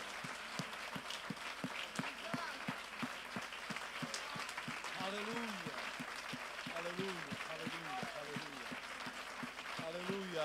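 A church congregation claps in a steady, rhythmic beat while voices call out and sing along over the clapping.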